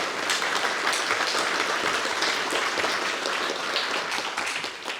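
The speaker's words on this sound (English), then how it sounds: "if I could just get a round of applause for Elle-Marie and Ashley" Audience applause at a talk introducing a breeding wader project: dense, sustained clapping from a room full of people that holds steady for several seconds before starting to fade.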